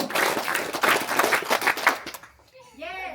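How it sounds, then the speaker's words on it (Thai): Audience at a Thai agricultural school event clapping together in several bursts in unison, loud and roomy, before a voice speaks briefly at the end. "ปรบมือพร้อมกันหนึ่งครั้งสองครั้งหกครั้ง"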